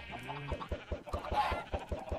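Minecraft chickens clucking in a modded game world, a quick run of short, evenly spaced clucks at moderate volume with no talking.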